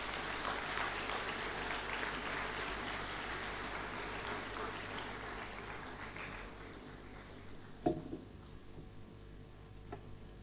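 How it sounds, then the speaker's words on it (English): Audience applause for the President at the IGNITE 2015 awards ceremony at IIM Ahmedabad: a steady wash of many clapping hands, moderately distant, that slowly thins and fades, with a few isolated claps near the end. "A big round of applause for the President himself."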